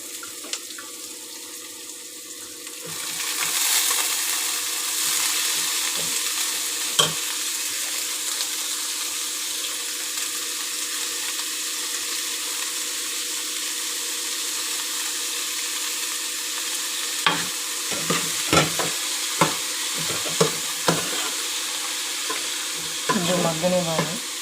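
Cabbage for a curry fries in a pan with a steady loud sizzle throughout, broken near the end by several scraping stirs of a utensil against the pan.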